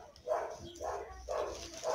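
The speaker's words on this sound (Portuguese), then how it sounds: "Ignora os cachorros." Several dogs bark in short, muffled bursts at a moderate distance, four or five barks spaced irregularly over a steady background.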